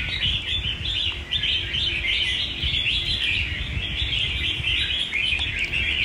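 A young caged songbird, offered for sale, sings a continuous rapid warbling song close by over a steady low background rumble, with no talk.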